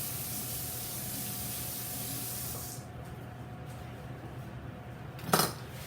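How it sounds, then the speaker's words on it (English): Water sprays hard into a sink while hands and a knife get washed, a steady hiss that cuts off halfway, followed by quieter kitchen sounds and a sharp metallic clink near the end. "clean up the knife, wash the hands"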